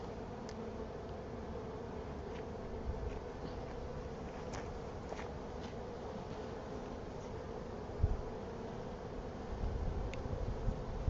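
Honeybees at an open hive give a steady, soft, even buzz that holds throughout, with faint wind noise and a few brief louder bumps near the end.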